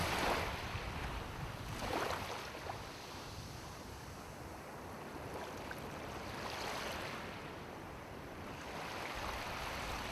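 Ocean waves washing onto a beach at a surf spot, a faint, continuous wash of surf with gentle rising and falling swells and no voices.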